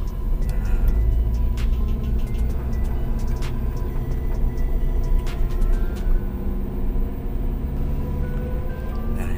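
A manual car's engine revs steadily in first gear during a driving lesson, a continuous close, low rumble with a light mechanical ticking that holds at an even level throughout.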